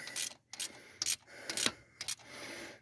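A ratchet clicks in short rasping bursts while tightening the carburetor bolts of a rebuilt 650 Holley on a 1969 Ford Mustang Mach 1, five or six quick strokes separated by brief pauses, close up with no talk.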